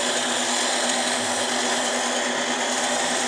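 A repaired 3/4 inch impact gun runs steadily and loudly for a few seconds, a continuous high-pitched whirring drone with no pauses or talk.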